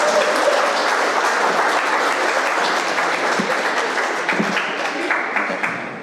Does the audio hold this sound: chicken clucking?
no